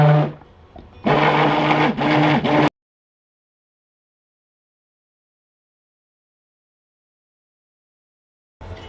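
Soap batter stirred to break up uncolored clumps, a close motorized whirring in two short bursts, followed by long silence.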